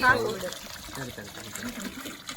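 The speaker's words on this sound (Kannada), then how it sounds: "ಚೊಂಬಲ್ ಹಾಕಿ ಆ ಫಿಲ್ಟರ್ ನೀರು" Filtered water pours from a small metal jug while rinsing rice for pulao on an outdoor day trip. A soft, brief trickle plays under nearby talk.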